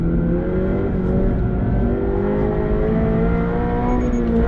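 A Subaru BRZ or Toyota GR86 sports car accelerating hard on a race track, its engine note rising steadily in a loud, close, continuous rev with no talking.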